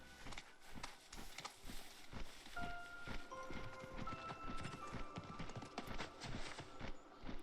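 Chocobo footsteps from the video game Final Fantasy VII Rebirth form a steady, quick clip-clop rhythm, like a running bird mount, with soft game music tones held underneath.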